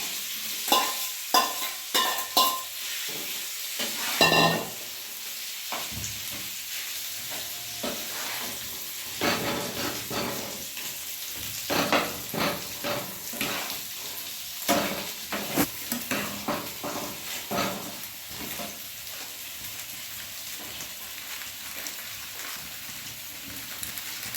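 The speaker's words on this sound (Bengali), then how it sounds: "কারি পাতা ফেলে দিয়ে দিলাম। এবারে আলুগুলো দিয়ে দিলাম।" Potatoes frying with curry leaves in a pan, a close crackling sizzle with repeated scraping stirs and bursts of spatter at uneven intervals, and no talking.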